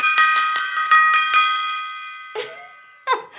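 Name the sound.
small gong struck in celebration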